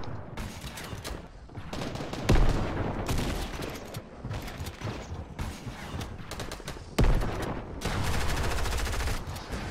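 Fortnite gunfire crackles in loud, rapid bursts of shots with short pauses between, two heavier booming blasts standing out over a steady rumble of gameplay noise.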